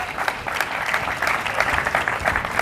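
Audience applause in a conference hall at a tech company presentation, a steady dense patter of clapping at moderate level for a few seconds.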